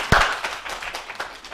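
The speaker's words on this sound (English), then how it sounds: "Big round of applause for Sharon." A brief, sparse round of applause from a small audience at a spiritual medium workshop, opening with one sharp clap and followed by scattered, fading handclaps.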